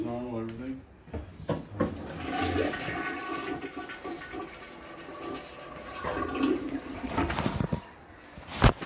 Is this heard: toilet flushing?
yes